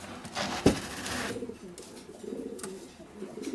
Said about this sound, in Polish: Tu jest też kolejny gołąb